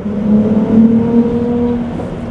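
A Ferrari 296 GTB's engine hums steadily with a low, sustained tone that rises slightly as it accelerates nearby, with no voices.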